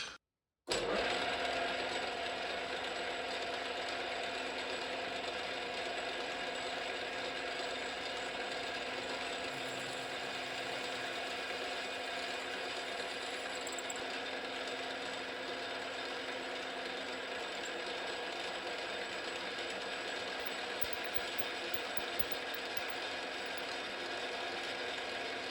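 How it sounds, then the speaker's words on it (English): Steady, loud mechanical whir of a drill boring through a steel hitch part for a Massey Ferguson 35 tractor, running continuously after a brief silent start with no talk. "let's get drilling."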